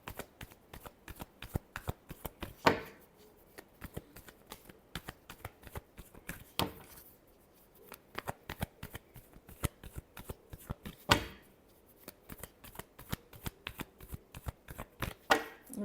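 Tarot cards being shuffled by hand, a steady run of crisp riffling snaps close by, repeated in quick rhythm with a few louder slaps, almost no voice.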